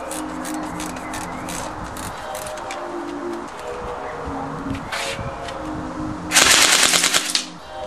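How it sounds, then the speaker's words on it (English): An M805 battery-powered electric airsoft BB gun firing on full automatic: rapid, continuous mechanical rattling bursts with a loud dense stretch near the end, no talking. "The shot on full automatic."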